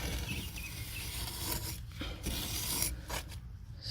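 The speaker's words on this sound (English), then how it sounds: "I'm using this spatula to create a contour" A spatula works wet stucco into a rock-like contour on mobile home skirting, making a steady, close, gritty scraping and rubbing that runs throughout with small pauses.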